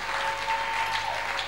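A brief, soft burst of clapping from a church congregation, even and fairly distant throughout.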